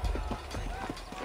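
Horse hooves clip-clopping in Red Dead Redemption, a short run of rhythmic thuds under steady talk.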